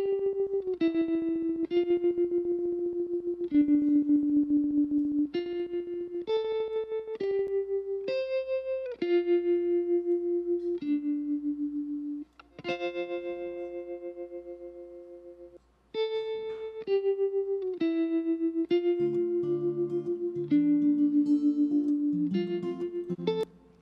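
Electric guitar track processed with compression and a tremolo/stereo plugin effect, playing a melodic line of sustained notes and chords, loud and close, with two brief dropouts and no talk.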